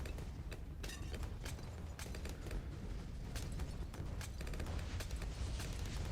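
Layered in-game explosion effects from towers popping balloons in Bloons TD 6 on the Monkey Meadows map, a dense continuous barrage of sharp bursts and pops over a low rumbling bed, loud and steady throughout with no talk.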